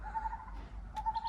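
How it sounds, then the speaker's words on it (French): Birds call outside near a Buddhist temple at Phanom Rung in Thailand, giving two short hooting tones a moment apart over a low background rumble. "C'est quoi, les oiseaux qu'on entend?"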